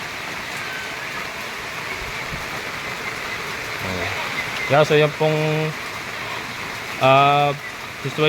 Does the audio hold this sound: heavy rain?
yes